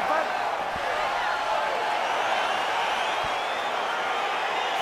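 Excited arena crowd noise in the EA Sports UFC 4 video game as a fight begins, a steady loud roar of cheering with a few thuds, running under a commentator's voice throughout.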